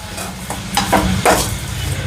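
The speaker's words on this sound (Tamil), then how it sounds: "இப்போ வந்து இதை லைட்டாக வதக்கிடலாம்" Mint leaves being lightly sautéed and stirred in a pan while making mint chutney, giving a soft steady sizzle with a few scraping stirs, close and moderately loud, with no talk.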